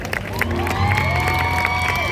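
Concert crowd at a Thai artist showcase cheers and claps for a singer, a steady wash of applause and shouts with some voices mixed in, sustained throughout.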